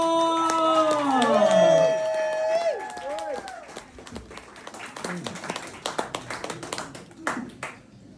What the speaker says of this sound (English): give a huge round of applause and give it up for Paul